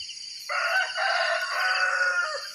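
A rooster crows once, a loud drawn-out call close by, with quiet before it.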